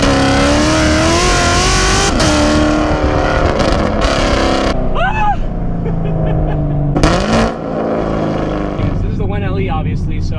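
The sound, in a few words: 600HP Camaro SS accelerating, 10-speed automatic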